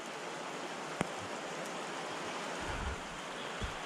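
Rain coming down beside a stream in the bush, a dense, even hiss of falling water and flowing current, with a couple of faint isolated taps near the start and no voices.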